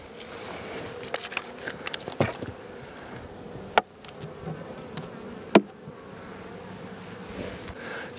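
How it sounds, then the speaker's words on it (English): Steady buzzing of many honeybees close by in an opened hive with six frames of bees in winter, a dense hum with scattered clicks and sharp knocks throughout, no voices. "Six frames of bees"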